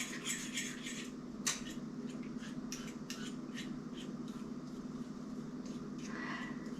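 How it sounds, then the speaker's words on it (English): A utensil stirring freeze-dried egg with water in a bowl, light repeated scraping and clinking taps, close and fairly quiet over a steady background hum. "So we'll just stir this up a little bit in here and let it reconstitute"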